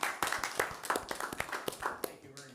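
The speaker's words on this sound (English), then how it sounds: "just want a round of applause for Gary" A small audience at a village board meeting claps for a departing trustee, a short burst of scattered, fairly close handclaps that fades after a couple of seconds.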